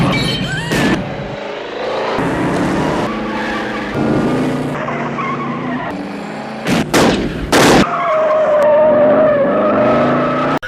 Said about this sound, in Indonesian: Si Cobra beraksi memutar mobilnya dan menembaki mobil yang mengejarnya sampai hancur meledak.